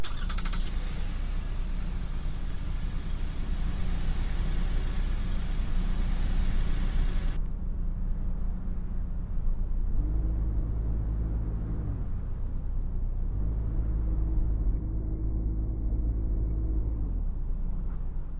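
A car engine in the Roblox Greenville game idles with a low, even rumble, then revs twice in smooth rising-and-falling sweeps, a plain, somewhat basic synthesized engine tone with no talk over it.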